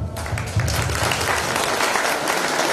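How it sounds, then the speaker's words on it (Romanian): An audience claps loudly and continuously, a dense wash of applause throughout. "Și vreau ca noi să vă aplaudăm."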